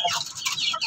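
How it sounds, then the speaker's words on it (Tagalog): A young rooster in a backyard chicken pen attempts an early crow, giving a strained, high, scratchy call that wavers across about a second, fairly close and with no talk over it. "Tumitilaok na rin. So nagpa-practice na tumilaok."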